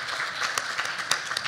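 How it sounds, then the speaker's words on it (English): Audience applause for a panel at a healthcare learning session in Colorado, a steady wash of many hands clapping at moderate distance, with a few sharper claps standing out. "So please give a round of applause to our great panel."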